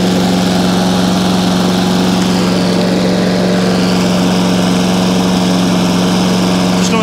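A Hayter 48 lawn mower runs at a steady, loud, close drone while its drive belt squeals continuously over the engine hum, with no talking.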